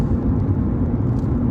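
Inside a car cruising on the A414 dual carriageway near St Albans, a steady low road rumble and engine drone holds constant at moderate loudness with no other sounds.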